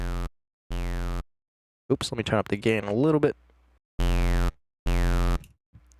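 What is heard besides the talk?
resonant peak filter for a formant filter in Phase Plant synthesizer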